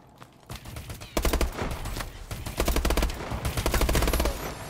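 Automatic weapon fire in the video game Call of Duty Advanced Warfare comes in several loud, rapid bursts with short gaps between them, close and punchy over faint game noise.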